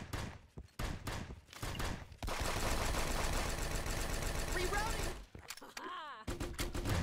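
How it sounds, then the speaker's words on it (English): Rapid automatic turret fire in Counter-Strike 2 rattles on for several seconds as a dense, sustained burst, with brief gaps and scattered voices talking before and after. "You can hear the turrets over there."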